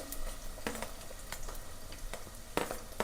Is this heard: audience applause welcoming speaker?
no